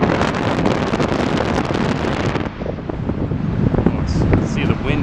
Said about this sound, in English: The wind is pushing it over.